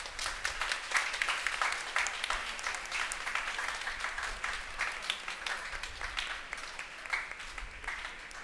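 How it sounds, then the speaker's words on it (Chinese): A congregation at a Christmas Day mass at the Church of the Visitation in Seremban applauds families called forward, with sustained, moderately distant clapping that stays even throughout. "我们掌声欢迎他们"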